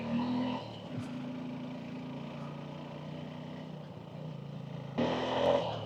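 A Suzuki V-Strom 250 SX motorcycle labouring up a steep hill in first gear, its engine a steady low drone throughout, swelling louder near the end.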